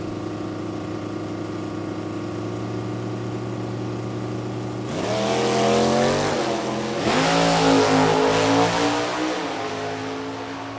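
Engines at a drag race at Bowling Green, including a small block Corvette in stock eliminator: a steady idling drone, then loud revving, rising and falling as the cars launch and accelerate hard, close and powerful.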